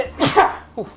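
A single close, sharp sneeze bursts out, followed a moment later by a short exhaled vocal sound, with a faint background hum.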